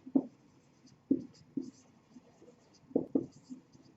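Handwritten notes go down with a pen, short scratchy strokes in irregular bursts, some in quick pairs, close and fairly quiet with no talk over them.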